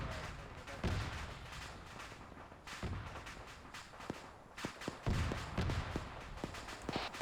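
Gunfire in the Arma 3 co-op military game, a string of sharp separate shots at uneven intervals, some near and some farther off, over low battlefield rumble.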